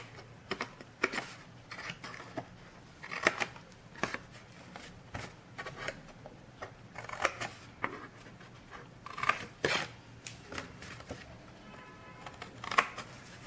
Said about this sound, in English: I'm going to just cut off the little corners.